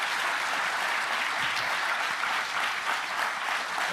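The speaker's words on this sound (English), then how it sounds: "How about a round of applause for Professor Fung?" An audience at a Harvard Kennedy School event gives a round of applause for a professor, a thick, even roar of many clapping hands, loud and sustained with no speech over it.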